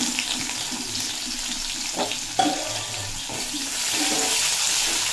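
Chopped onion frying in oil with a bay leaf, a steady broadband sizzle with a few sharper stirring clicks, close and continuous, with no voices.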